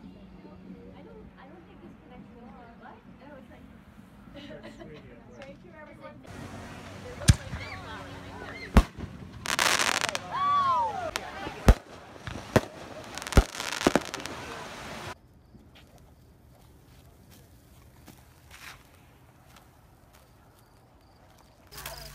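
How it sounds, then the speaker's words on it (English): Fourth of July fireworks at a beach boom and crackle in a cluster of loud sharp bursts amid crowd noise and surf, with people talking before and after the display. "Yeah, this is how you do 4th of July, right? Fireworks."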